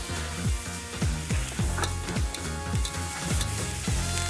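Maggi seasoning hitting a hot wok at its edge during a stir-fry of Chinese chive flowers with squid, a steady loud sizzle with rhythmic scraping strokes of the spatula repeating about twice a second.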